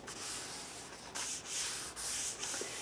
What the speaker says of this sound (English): Just going to close the book, pick that page up, and smooth it down.